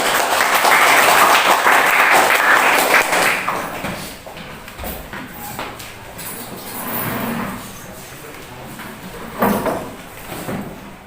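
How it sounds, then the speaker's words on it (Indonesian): Classroom applause for a presenting student group during a teacher-training lesson: a loud burst of clapping for about four seconds, then fading into quieter room noise with a few knocks and shuffles. "sudah berikan tepuk tangan"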